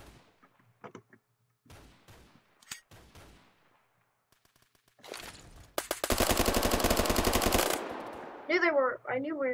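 Gunfire in the Phantom Forces shooter game on the Crane Site map, scattered single shots and short pops early, then a long dense machine-gun burst lasting about two seconds, followed by a few more rapid bursts.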